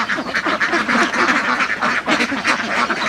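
A dense chorus of farmed ducks quacks continuously and loudly, many birds calling over one another with no pauses and no voices.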